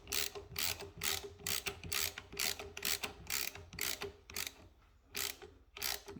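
Hand ratchet tightening the outside bolt of an aftermarket Depretto Moto Revenge SS mirror on a 2021 Yamaha MT-09, a steady run of close, crisp clicking strokes with brief pauses between pulls.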